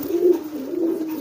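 A pigeon cooing in courtship display, two low throaty coos close by, alone with no talk.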